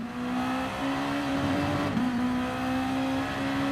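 A Honda NSX engine held on part throttle at Suzuka in Gran Turismo Sport, with a steady droning hum, a brief dip and recovery midway, close and continuous with no speech.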